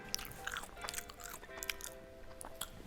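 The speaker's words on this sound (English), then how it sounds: "I'm gonna get the crunch of the chip." Potato chips being crunched while eating, a run of quick, close, crisp bites and chewing crackles over faint background hum, with no talking.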